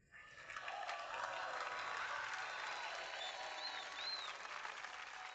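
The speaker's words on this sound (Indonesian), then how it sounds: "Mari kita sambut dengan tepuk tangan meriah" Enthusiastic audience clapping greets a man stepping onto a stage, rising quickly to a dense, sustained patter that stays level to the end, recorded faint and distant.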